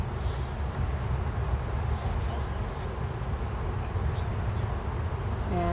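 Honeybees droning steadily inside an open hive during a spring beekeeping inspection, a continuous close, dense buzz that never lets up.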